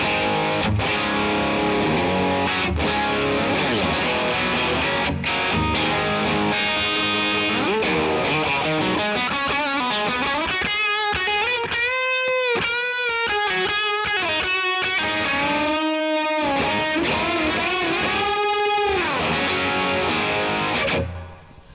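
Distorted electric guitar through a pushed Deluxe Reverb amp model, with a crunchy, overdriven tone, playing chords and then sustained bending lead notes, loud and continuous throughout.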